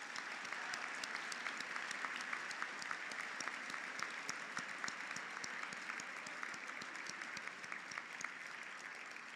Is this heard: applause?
yes